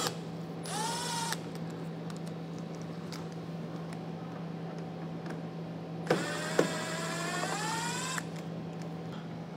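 Screws and 10mm nuts are being removed from the wheel well of a 2022 Honda with a power tool. It makes two rising electric whirs, one short and one longer, with a few metallic clunks over a steady background hum.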